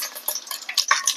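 Stone flower and shahjeera tempering spitting in hot oil, a brief close burst of crackling sizzle with light stirring ticks.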